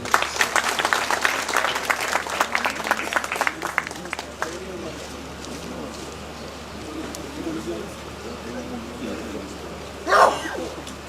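Applause from an audience at an airport technical building inauguration ceremony, for the minister of air and maritime transport, a few seconds of clapping that fades, with a dog barking and birds in the background.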